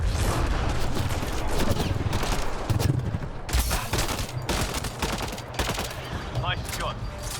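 Sustained gunfire in Mass Effect crackles through a loud firefight, with dense bursts of rapid shots and sharper individual cracks stacking over one another for several seconds, and speech mixed in.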